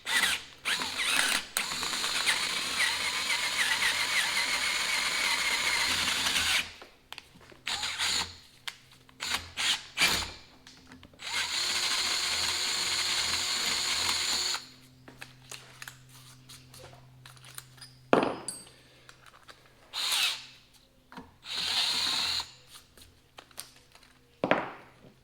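A power tool driving a 3/8-inch drive socket during a well check valve repair, running in several loud bursts of whirring with short gaps between them, the later bursts clipped and irregular.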